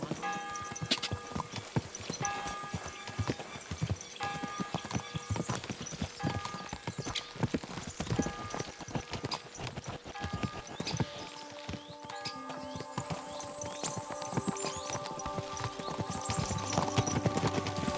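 Steady clip-clop of horse hooves at a slow walk in the video game Kingdom Come: Deliverance II, close and continuous over a layer of music and ambient background.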